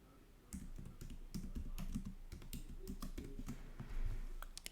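Someone types text on a computer keyboard in quick, light, close-up clicks and taps with an uneven rhythm, quiet and with no talking.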